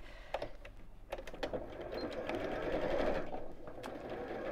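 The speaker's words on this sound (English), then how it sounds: "And sew straight across." A sewing machine stitches straight across the fabric of a drawstring pyjama bag, starting with a few clicks and taps, then settling into a steady, close mechanical whirr that builds and holds to the end.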